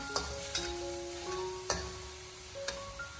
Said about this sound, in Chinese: 开中小火给它翻炒一下，将柚末给它炒散，炒至变色，把它炒出香味